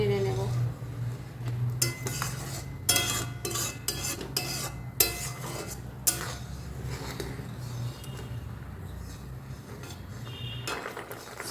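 A spoon stirs carrot vermicelli sweet in a metal pan, repeated scraping and clinking strokes in irregular bursts, close and fairly loud over a low steady hum.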